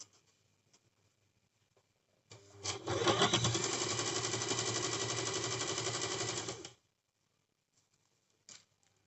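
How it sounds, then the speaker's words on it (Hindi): Sewing machine stitching along the waistband of a cigar pant, one close, steady rapid whir of about four seconds that stops abruptly, with near silence before and after. "इस तरीके से हम सिलाई कर लेंगे पूरे बेल्ट में"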